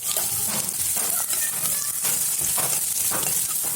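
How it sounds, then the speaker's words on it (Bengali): Chopped onions frying in mustard oil in a hot wok, a loud continuous crackling sizzle with a few faint clinks, steady throughout and unaccompanied by speech. "এখন পেঁয়াজ কুচি দিয়ে দিলাম। পেঁয়াজ কুচি অল্প সময় ভাজুমো।"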